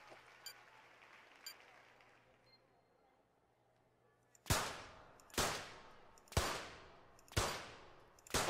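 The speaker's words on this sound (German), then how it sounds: "Gerade eben konnte ich den letzten Schuss hier noch setzen" Five loud gunshots in the London 2012 video game shooting event ring out about a second apart, each sharp crack trailing into a decaying echo, after a few faint clicks.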